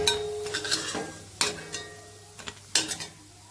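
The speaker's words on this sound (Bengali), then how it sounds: "এটা ভাজা শেষ, এবার তুলে নিচ্ছি" Fried bitter gourd being stirred and lifted out of a pan, with several sharp scraping and clinking strikes of a utensil against the pan over a faint background of sizzling.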